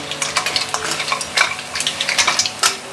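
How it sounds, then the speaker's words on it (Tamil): Crab pieces being sautéed with crushed cumin, pepper, turmeric, coriander powder, salt and asafoetida in a pan for a spicy crab soup: close, steady sizzling with repeated stirring scrapes and clinks of a utensil throughout. "இது 2 நிமிஷம் இந்த கிராபோட பச்சை வாசனை லைட்டாக போகிற வரைக்கும் சாட்டே பண்ணிக்கோங்க."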